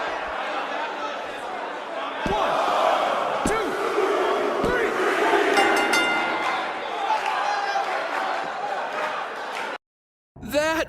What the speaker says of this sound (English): The live crowd loved it.